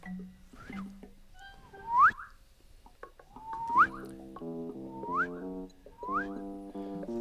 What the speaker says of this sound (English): Whoa, nice whistling.